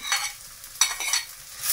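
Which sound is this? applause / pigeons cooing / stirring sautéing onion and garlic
stirring sautéing onion and garlic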